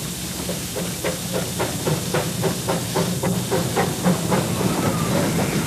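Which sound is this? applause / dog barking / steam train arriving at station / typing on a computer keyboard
steam train arriving at station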